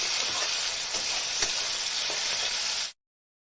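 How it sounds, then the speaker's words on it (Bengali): Chopped tomato and onion fry in oil in a pan, a loud continuous sizzle with faint stirring scrapes, cutting off abruptly near the end. "পেঁয়াজগুলো আমার সুন্দরভাবে ভাজা হয়ে গিয়েছে, তা টমেটো কুচিটাও আবার ভেজে নেবো ভালো করে।"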